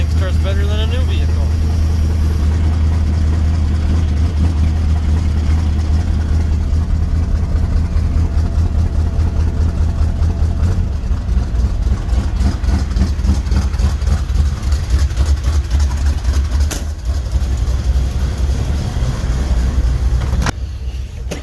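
An old Chevy engine with an electric choke runs in winter, holding a loud, steady, low idle rumble at close range for the whole stretch while someone talks over it.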